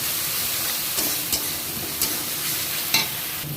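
Mustard and green chili paste stirred into hot oil in a pan, with a steady close sizzle and a few scraping spatula strokes, loud and alone.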